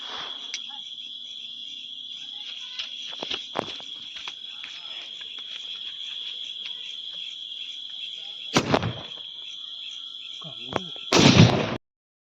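Firecrackers set off at night in a quiet neighbourhood: two sharp, booming bangs come late, the second louder, over a steady, shrill chorus of crickets.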